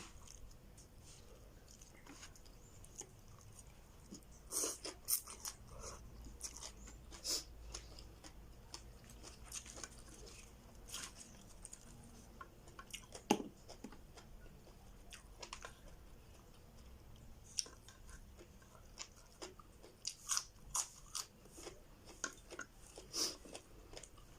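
Spicy Isan som tam papaya salad being eaten, with soft wet chewing and biting sounds and scattered sharp clicks across a quiet background, no talking.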